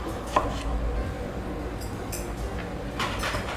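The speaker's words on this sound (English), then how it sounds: "slice the green apple" A knife slices through a green apple on a board, with a sharp cut near the start and a few softer slicing strokes later, over a low steady hum.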